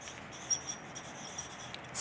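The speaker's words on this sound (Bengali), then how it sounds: "আমি এখানে লিখে নিচ্ছি" A pen scratches across paper in short strokes while notes are written by hand, faint and close, with no talk.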